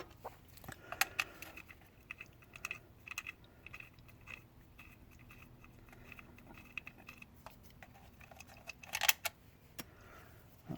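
Loosened T30 Torx bolts come out of an Audi Q3 during timing belt work. Quiet, scattered metallic clicks and taps from the tool and bolts sound close by, with a sharper clatter near the end.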